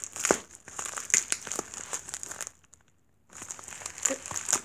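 Cutting open an eBay package: close crinkling and rustling of packaging in quick bursts, a short pause, then more crackling handling.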